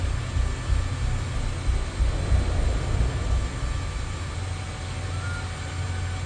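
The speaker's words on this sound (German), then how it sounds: "Flugzeug gesichtet." Aircraft drone approaches a submarine in the WWII naval game Silent Hunter 3, a steady low engine hum that stays moderately quiet and constant with no voices.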